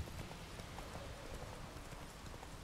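Quiet, steady clip-clop of horse hooves while riding in The Witcher 3, a faint rhythmic patter running throughout under a soft background wash.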